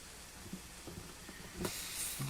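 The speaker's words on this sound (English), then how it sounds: "Now I got some steam coming out down the joint." Steam is forced into the neck joint of a Martin guitar during a heel-press neck removal. It makes a faint hiss with soft clicks, and the hiss swells into a brief, louder rush near the end.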